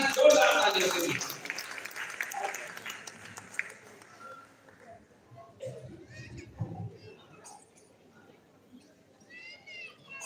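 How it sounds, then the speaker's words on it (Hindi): Audience applause at a Hindi comedy poetry gathering (hasya kavi sammelan), a loud burst at the start that fades over a few seconds into murmur and scattered sounds. "जोरदार तालियों के लिए।"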